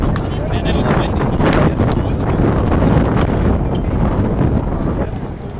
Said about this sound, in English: And it was windy.